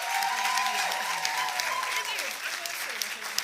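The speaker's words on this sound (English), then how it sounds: "Please give them a round of applause." A crowd claps for debaters at the close of a public sector debate final, steady dense applause filling the room while a voice speaks over it.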